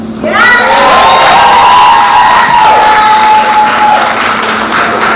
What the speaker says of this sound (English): make sure you clap for yourself